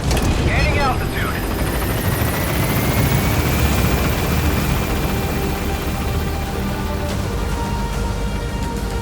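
Helicopter lifting off and climbing in Metal Gear Solid V: loud, continuous rotor thump and whine with a rising turbine tone, close and dominant throughout, a brief voice line near the start.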